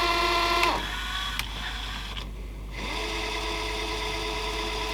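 A worn National NV850 VCR's tape mechanism motor runs with a steady mechanical whir and hum, broken by a couple of faint clicks and a brief dip in the drone partway through.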